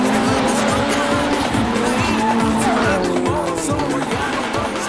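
Race cars in a sudden-death drift battle at a competition final slide with loud tire squeal and skidding, roaring engines pulsing in rapid revs, all close and continuous, with a voice faintly underneath.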